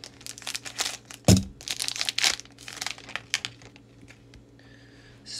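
Crinkly plastic wrapper of a Japanese Pokémon Lost Abyss booster pack rustles and crackles up close, with one sharp scissor-snip crunch early on, followed by lighter scattered crinkling.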